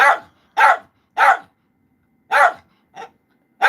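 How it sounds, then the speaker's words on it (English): A dog barks six times in sharp, loud bursts spaced by short pauses, close to the listener with no other sound around it. "he gets that barking motor going"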